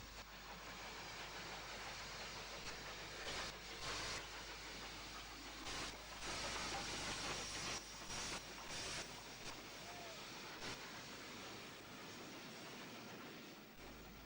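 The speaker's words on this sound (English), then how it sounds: "The Bulleid Pacific finally sets off for the south" Bulleid Pacific steam locomotive pulling away on a British main line, a broad rushing roar of steam and exhaust with repeated surging chuffs, heard from some distance and fairly faint.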